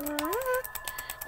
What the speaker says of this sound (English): was the sound of the rare screen,